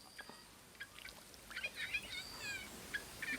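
Chickens cluck and chirp in short, scattered bursts outdoors beside a stream while fish are being caught in the dry season after fresh rain; the calls are fairly faint and no one speaks.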